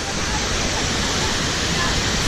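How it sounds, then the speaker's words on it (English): A waterfall at Universal Orlando's Volcano Bay water park roars close and loud, a steady dense rushing of falling water with no break. "I'm going to go right under the waterfall"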